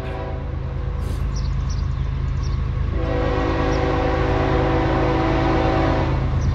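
CSX freight train M403 rolls through South Plainfield, New Jersey, behind locomotive 3241, with a loud, close engine rumble and a long multi-tone horn blast that swells midway through.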